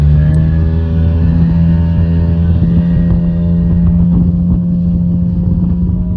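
A motorboat engine drones at a steady, loud level throughout the ride, mixed with wind buffeting the microphone and water noise, and no one speaks.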